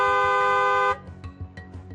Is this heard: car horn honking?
yes